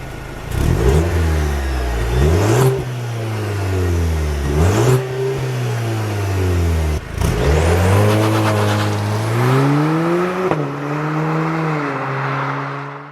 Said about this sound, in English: The exhaust sounds muted and nothing like the turbocharged four-cylinders